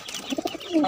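A white pigeon coos softly up close, a short run of low throaty pulses ending in a longer rolling coo.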